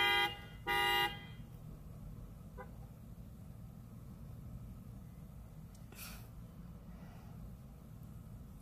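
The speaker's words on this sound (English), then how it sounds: "someone's kid got loose in their vehicle and started tooting the horn" A car horn toots in two short blasts, the second longer and louder, then a faint third toot follows later over a low, steady background hum.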